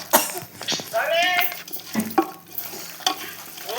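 Chicken biryani being stirred in a pot after deep-frying oil is poured over it gives scraping, sizzling strokes in short bursts, with a voice talking over them throughout.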